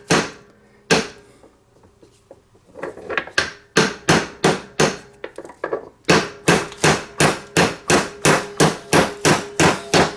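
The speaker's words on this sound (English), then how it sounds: "And on this side, I'm going to use the hammer." Sharp metallic hammer blows driving a snap ring into a Jeep Wrangler JK axle yoke during U-joint replacement, a few scattered strikes at first, then a steady rapid series of loud, evenly spaced impacts close by.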